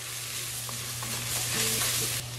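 Dried spices with smoked paprika fry in a vegan lentil chili, a continuous close sizzle with a low steady hum beneath and a few light stirring clicks, swelling slightly near the end.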